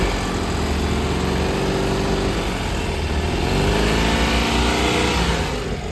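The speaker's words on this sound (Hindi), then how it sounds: "एक बार है ना रेस देना, हल्का सा मैं पीछे से आवाज़ दिखाता हूँ कैसे बदल रही है" A Tata Nano car engine with a leak is revved lightly, heard close from behind the car. The rough mid-pitched engine note stays steady, then rises in a brief rev partway through.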